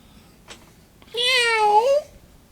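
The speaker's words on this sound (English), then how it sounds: "An 808 cat." A single drawn-out synthetic 808-style cat meow from a Zoom ARQ-96 Aero RhythmTrak drum machine, clean and bright, rising then falling, preceded by a faint click, with near silence around it.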